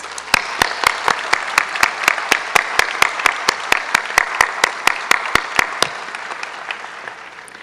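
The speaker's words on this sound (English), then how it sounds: "Please help me give them a big round of applause." An audience applauds at a nursing pinning ceremony, with sharp, close, evenly spaced claps standing out above a softer spread of crowd clapping, then stopping abruptly near the end.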